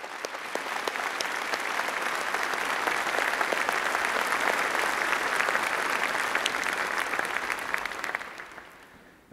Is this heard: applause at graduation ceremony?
yes